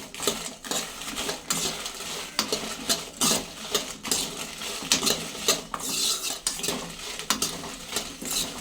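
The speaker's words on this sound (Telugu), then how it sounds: "ఆయిల్ పోసుకుని ఎండుమిర్చిని వేయించుకుందాము" Dried red chillies fry in oil in a kadai while a metal spoon scrapes and clinks against the pan, giving sharp irregular clatters over a soft, close sizzle.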